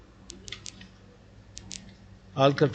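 Computer mouse clicking while working on a Windows Server 2003 computer, several small sharp clicks spaced irregularly, close and fairly quiet, followed by a brief burst of someone speaking at the end.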